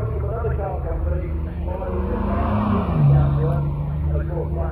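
A classic Jaguar Mk.II with the XK engine climbs Kop Hill at a hill-climb event, its engine note rising as it accelerates and passes near, loud and steady under a commentator talking throughout.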